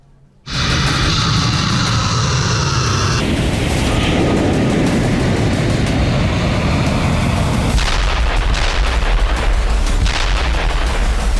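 Russia-Ukraine war footage of glide bombs and missile strikes, a sudden loud onset of heavy booming blasts and dense rumbling detonations that continue without a break, with no speech over them.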